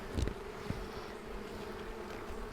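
Honeybees from a nuc hum in a low, steady drone near a brood box, with a couple of brief thumps early on as a frame is shaken over it.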